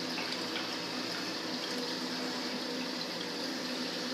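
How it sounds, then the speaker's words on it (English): Water forced through a hot oil pump on a solar thermal car project gushes in a steady, continuous rushing stream, even and moderately loud, with no talk over it. "This is the pump test. So it's got water now, and you can see here it shoots out."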